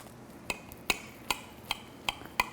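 A knife cuts through a low carb breakfast casserole in a baking dish, six evenly spaced crisp taps as the blade strikes the dish, close and fairly quiet.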